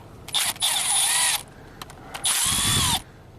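A power drill backs out the screws holding a motor in place. Two loud, sustained whirring bursts of about a second each are separated by a short pause with light handling clicks.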